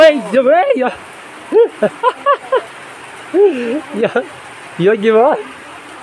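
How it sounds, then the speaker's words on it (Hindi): Heavy rain falls outside a tarpaulin-covered outdoor cooking spot, a steady hiss running under someone talking throughout. "अभी अभी मतलब कितनी भयंकर वाली बारिश लग गई है बाहर पे"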